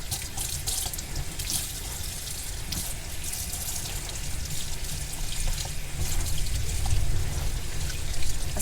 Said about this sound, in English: Let's just give this a wash.